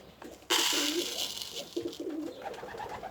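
Racing pigeons in a loft cooing, several soft low rolling coos in short phrases over a brief burst of rustling, close by.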